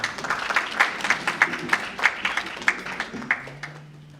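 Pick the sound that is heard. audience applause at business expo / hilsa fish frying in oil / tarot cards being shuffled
audience applause at business expo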